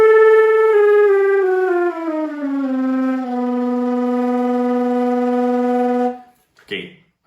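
A flute in its low register plays a fluttertongue made with the throat: one sustained tone slides downward in steps, then holds steady for several seconds before cutting off. It is played alone and fairly loud.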